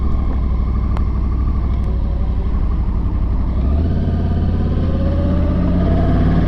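A Yamaha R1 sport motorcycle at a race track runs in B mode, its engine a loud, close, continuous rumbling drone whose pitch shifts and rises partway through.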